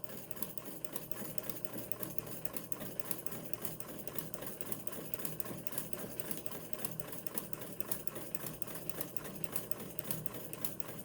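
Vintage sewing machine running free motion stitching, a steady rapid mechanical chatter of the needle that goes on without a break, fairly faint and alone.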